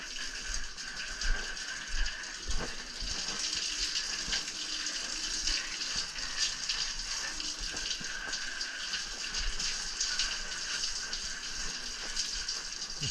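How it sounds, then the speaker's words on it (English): Water running steadily from a tap to rinse excess polish off a worked surface, a continuous hissing splash with a few louder splatters, no talking. "Now, I'll rinse this off."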